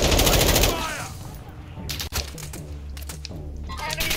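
Rapid automatic gunfire rattles in Call of Duty: Modern Warfare 2, with a dense burst up front followed by scattered sharp shots. A voice talks over the action.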